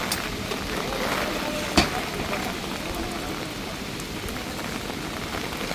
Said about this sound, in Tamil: அங்கால பக்கம் ஃபுல்லாகவே மழை பெய்தோன்றது